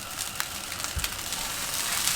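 Sesame oil sizzles in a hot frying pan while egg fried rice cooks, a steady soft crackle with scattered pops throughout.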